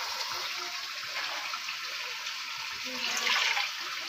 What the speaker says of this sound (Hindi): इसमें थोड़ा सा पानी डाल के